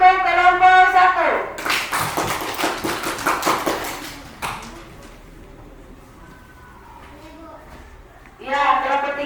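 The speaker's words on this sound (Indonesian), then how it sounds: "Ulangi, tepuk tangan untuk kelompok 1." A classroom of pupils claps together for a group, a burst of rapid rhythmic clapping lasting about two seconds between stretches of children's voices chanting or speaking, then a quieter pause.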